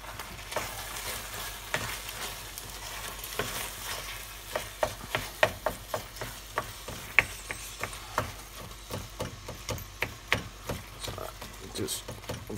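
Pork and beef mince sizzling in a frying pan for bolognese sauce while a utensil chops and breaks it up, giving sharp, irregular taps and scrapes over a steady close fry.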